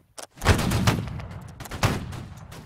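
A massed musket volley rings out in Holdfast: Nations At War, a loud close burst of overlapping gunshots followed by a rolling crackle of scattered shots that fades over a couple of seconds.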